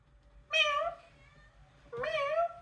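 Two distinct meows sound close and clear, separated by a short pause, rising and falling in pitch over a quiet background.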